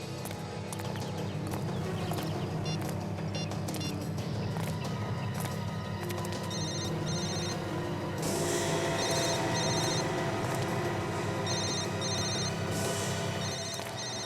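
A mobile phone hidden nearby in a jungle rings with a repeating electronic ringtone, its chiming pattern recurring over dense, continuous background music and noise.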